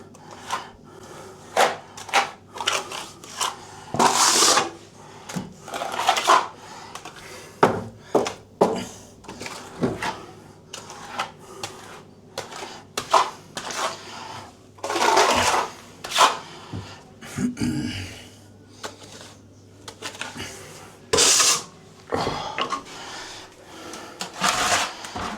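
A plastering trowel skims plaster across a bathroom wall, building up the layers in a second coat. Close, irregular scraping strokes arrive in short bursts with brief pauses between them.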